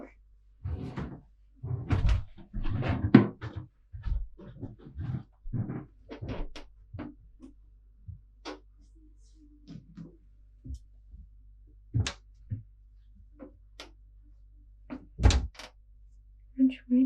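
Cabin doors on a 2012 Lagoon 500 sailing catamaran being pulled open and shut, giving several short sharp knocks and thuds spread through the clip, close by, with people talking in between.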